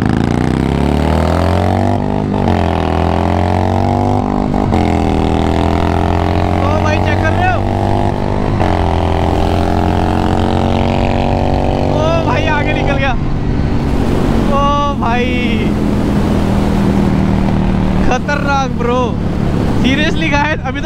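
A KTM Duke 390 and a Harley-Davidson 883 motorcycle in a drag race: loud, steady engine drone with rising revs and gear shifts, while someone talks over it in the second half.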